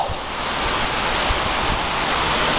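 Rain pours steadily outdoors in Canada as a cyclist is caught in it, a dense, constant hiss of drops with no voices.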